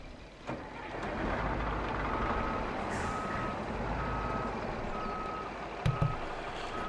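Truck reversing at a logging site while hauling a K9000 forwarder, a regular series of reversing beeps over a rumbling diesel engine, with short air brake hisses near the end.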